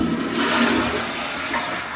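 A toilet flushes in a hotel bathroom at the Courtyard by Marriott Los Angeles Century City, a steady loud rushing of water filling the whole moment, close and continuous.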